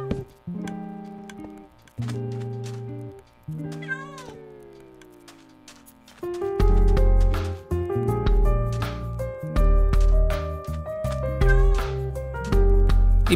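Cat meowing in the game Minecraft, several short tonal meows in a row, then louder overlapping game sounds and repeated meows with ticking, no talk.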